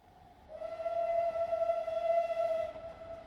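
The steam whistle of Great Western Saint Class 2999 Lady of Legend sounds at a heritage railway autumn steam gala, a single sustained faint tone from a distance that holds for about two seconds before cutting off.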